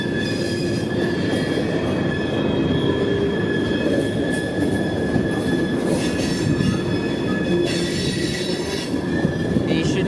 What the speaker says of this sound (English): We're gonna get a lot of trains in this video.